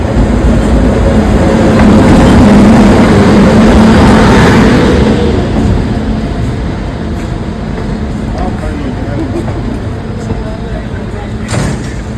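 A passenger train pulls into a station on the Dhoraji to Somnath line, a loud, steady broadband rumble that swells over the first few seconds and then holds, with people talking nearby throughout.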